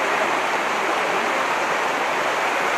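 Sunnappugadda waterfall near Seetampeta, Srikakulam, roars as a loud, steady wash of falling water, dense broadband rushing that never lets up, with no voices.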